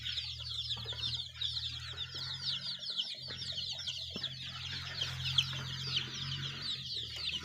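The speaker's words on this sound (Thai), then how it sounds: "นี่ไก่ไข่ ลวดขาว ที่ผมเลี้ยงไว้" A flock of Rhode Island Red laying hens clucks continuously nearby, busy overlapping chatter over a low steady hum, with an occasional louder squawk.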